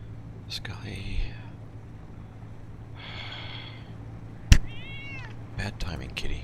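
Domestic cat meowing indoors, a few short close meows and a rising chirpy call spread across the stretch, alongside whispered human sounds and a sharp click.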